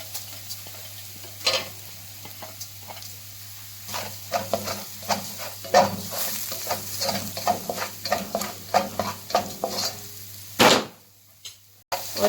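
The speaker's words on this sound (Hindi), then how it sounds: "हमारा लहसुन और साबुत जीरा अच्छी तरह से भून गया।" Garlic and whole cumin fry in a pan for a Turkish-style karahi, a soft sizzle broken by frequent close scraping stirs and clinks, ending in a louder clatter.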